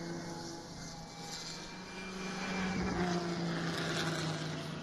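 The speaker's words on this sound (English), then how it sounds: "There goes that Dodge Power Can-M machine, and you can hear the difference in the sound of the engine" A Dodge Can-Am race car engine roars past on the track at the 2021 American Speed Festival at M1 Concourse, a distant drone swelling louder midway and then fading slightly.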